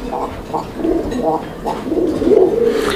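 A large black Rajgolla pigeon pair in a running, breeding pair cooing in soft repeated low bursts nearby, with someone talking over them.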